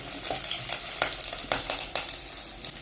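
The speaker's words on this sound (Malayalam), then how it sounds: "പച്ചമുളക് ഒന്ന് നല്ലോണം പൊട്ടട്ടെ. പച്ചമുളകൊന്ന് പൊരിഞ്ഞാലേ നല്ല ടേസ്റ്റ് ഉണ്ടാവും കേട്ടോ" Green chillies fry in hot oil with a dense, loud sizzle throughout, broken by frequent sharp crackles and pops at irregular moments.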